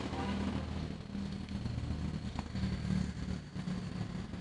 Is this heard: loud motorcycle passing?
yes